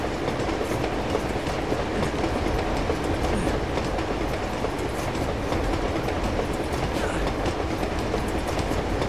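A moving train ridden on top in Uncharted 2: Among Thieves, a dense continuous rumble and rattle of rolling wheels and carriages with steady clatter, loud and unbroken from start to end.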